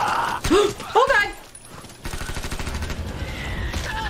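A gunshot from a World War Z film scene where a man shoots himself in the head, heard as a sharp burst amid film sound and music, with shocked people reacting over it.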